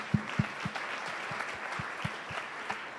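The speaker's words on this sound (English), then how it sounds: "how about another round of applause for all the programming going on there?" Applause from a performing arts event audience with distinct, rhythmic hand claps standing out over a softer spread of clapping, moderately distant.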